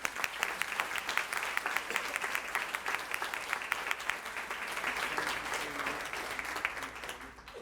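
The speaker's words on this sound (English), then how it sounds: "Let's give him a round of applause." A crowd claps at a school partnership recognition event, dense and sustained applause filling the room at a steady level before tapering off near the end.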